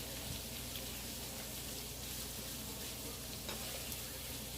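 Onions fry in oil on high heat with a steady, close, even sizzle and a few faint stirring clicks, and no one speaks.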